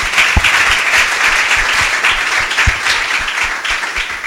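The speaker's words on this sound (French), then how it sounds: "Est-ce qu'on peut acclamer le Seigneur pour ce projet?" A church business conference audience applauding and cheering for the Lord, dense sustained clapping from a large crowd, loud and continuous throughout.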